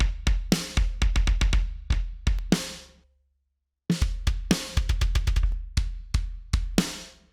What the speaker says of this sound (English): Let's see how these trigger sounds with our kick drum.